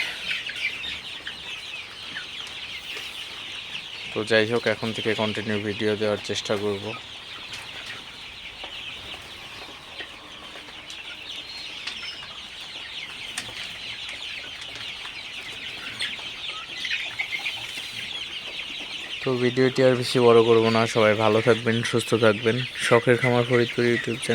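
Heat-stressed 38-day-old Sonali hybrid chickens cluck in two loud bursts of rapid, throaty calls, separated by a stretch of steady background hum and faint farmyard noise.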